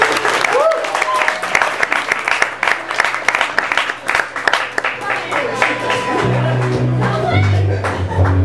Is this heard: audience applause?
yes